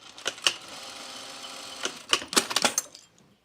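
A domestic sewing machine stitches binding pieces together in short bursts, rapid clattering runs separated by brief pauses, close and fairly quiet.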